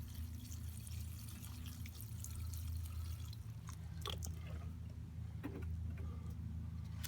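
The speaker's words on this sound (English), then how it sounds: "We're just going to water the plant like so." Water poured onto a potted plant that is being propagated by air layering, heard as a soft, faint trickle with a few scattered drips against a quiet background hum.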